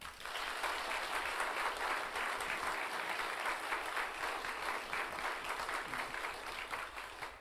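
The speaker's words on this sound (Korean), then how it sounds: "격려하시는 따뜻한 큰 박수 부탁드리겠습니다" Loud, sustained applause from a large church audience after an Easter cantata, steady clapping that fills the whole stretch without a break.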